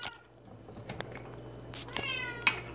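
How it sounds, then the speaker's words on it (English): An agitated house cat meows indoors, giving a few faint drawn-out cries among low background hum and small knocks, with no one speaking. "My cat's freaking out."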